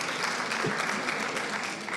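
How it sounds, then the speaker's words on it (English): Audience applause at a conference, a brief, dense burst of many hands clapping at moderate loudness, steady throughout. "Clap for me now."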